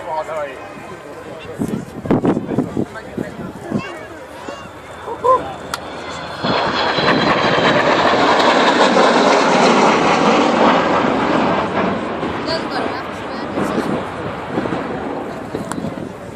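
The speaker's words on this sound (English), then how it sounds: "So here she is, Avro Vulcan XH558." Avro Vulcan XH558 bomber flying at the Cosford air show, its engine roar building from distant rumble into a loud, broad sustained howl as it passes, with announcer speech and crowd noise over it.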